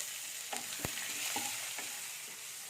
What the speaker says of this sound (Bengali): এর মধ্যে পেঁয়াজ কুচিগুলো দিয়ে দিলাম পেঁয়াজটাকে একটু ভেজে নেবো লাল লাল করে